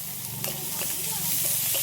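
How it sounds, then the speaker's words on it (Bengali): Grated ginger and garlic fry with chopped onions in hot oil, a constant close sizzle with stirring scrapes and clinks of a utensil against the pan. "একই সাথে দিয়ে দিচ্ছি গ্রেট করে রাখা আদা আর রসুন।"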